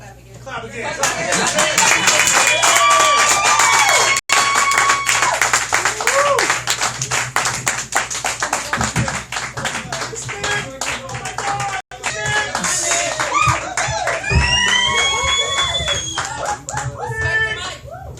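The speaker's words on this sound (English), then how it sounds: "Clap again." A crowd at a live performance event claps together as the performer is introduced, a loud, sustained run of hand claps with whoops and lively voices and chatter layered over it, dropping out briefly twice before picking back up.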